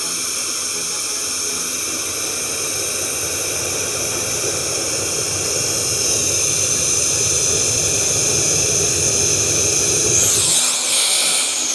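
A small electric fire blower running close by, a steady loud whooshing whine of air that holds constant and edges slightly louder, briefly wavering near the end before cutting off.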